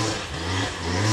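An enduro motorcycle engine revs on a trail, a brief, loud, close engine roar with a rising and falling pitch.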